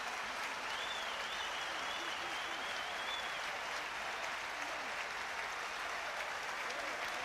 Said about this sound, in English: the fans certainly clapping him off